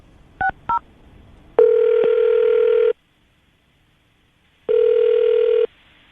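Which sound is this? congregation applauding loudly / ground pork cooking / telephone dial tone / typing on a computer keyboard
telephone dial tone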